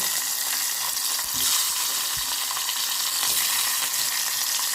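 Dried fish frying in hot oil, a steady loud crackling sizzle with a few faint clinks, continuous and close with no talking.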